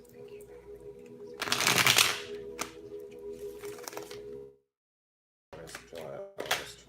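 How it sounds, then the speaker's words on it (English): Tarot cards being shuffled by hand, a close riffling and flapping burst that peaks early and then continues in softer rustles, breaks off into silence, and returns as brief card handling near the end. "Let me shuffle these cards for Taurus"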